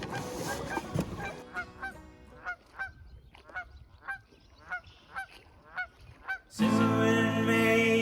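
A pair of geese honk on a beach, a series of loud, evenly spaced honks from close by. Music then starts abruptly near the end.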